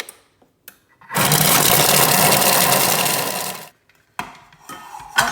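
A Thermomix running at speed 5 for about five seconds, blending a salmon filling for croissants: a loud, steady whirring roar that starts abruptly and cuts off, with brief clicks of the lid and measuring cup before and after.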